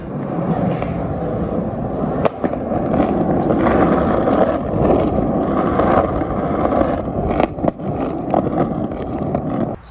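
Skateboard cruising on Thunder Hollow Lights trucks with hollow axle and kingpin, forged base plate: a continuous gritty wheel roll with occasional clacks and bumps, fairly close and steady.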